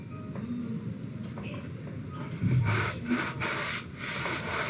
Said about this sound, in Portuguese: passa o paninho para tirar o excesso de água